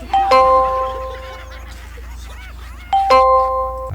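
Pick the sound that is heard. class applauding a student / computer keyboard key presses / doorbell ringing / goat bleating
doorbell ringing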